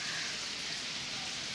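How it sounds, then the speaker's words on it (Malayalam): Rain falls steadily in an outdoor setting, an even, continuous hiss of drops on surfaces, fairly close and unbroken throughout. "ഒരു രക്ഷയില്ലാത്ത സാധനം കേട്ടോ മഴ എന്ന് പറയുന്നത്"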